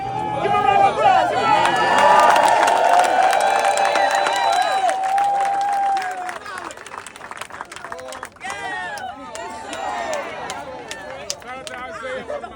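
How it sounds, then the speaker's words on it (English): Audience applause and cheering from a crowd at a live event, loud and sustained for several seconds before tapering into scattered clapping and crowd chatter. "a round of applause."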